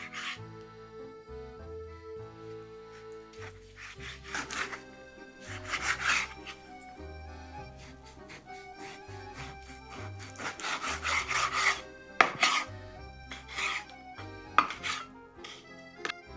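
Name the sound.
knife slicing pork loin into chops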